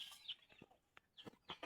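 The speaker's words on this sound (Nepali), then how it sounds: "यो कुखुरा वहाँ बसेछ" A chicken gives a few short clucks and chirpy calls in quick irregular bursts, faint and fairly close, with no talking.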